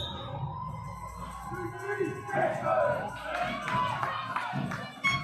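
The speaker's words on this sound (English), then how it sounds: "the Richmond crowd, the families, the friends of the Richmond players, cheering them on" Families and friends of the Richmond players cheer at an under-15 boys' school volleyball cup final, with clapping and shouts rising in bursts around a commentator's voice.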